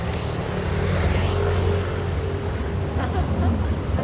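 Many motorcycles pass through a crowded night market in Daraga, a continuous loud rumbling engine drone with revving swells and no clear talk.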